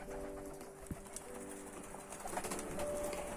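Pigeons cooing at feeding time on a French countryside farm, soft low murmuring calls against a busy background with faint rustling and movement, no talk.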